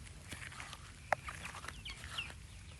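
Chickens in a yard cluck softly and intermittently while eating cicadas emerging from the ground, faint and fairly close, with one sharper peep standing out.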